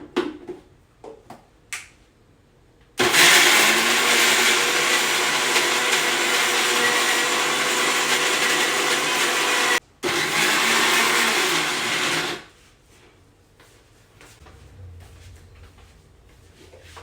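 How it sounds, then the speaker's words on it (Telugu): A kitchen mixer grinder whirs loudly while grinding garlic and cumin seeds for a gourd snack batter, running steadily for about nine seconds with a brief pause, after a few light clicks. "ఇప్పుడు మిక్సీ పట్టుకుందాం."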